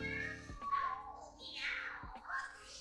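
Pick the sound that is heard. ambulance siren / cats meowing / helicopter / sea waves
cats meowing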